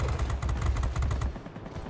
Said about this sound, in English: Good shots with a 37mm cannon, nearly finish him off immediately.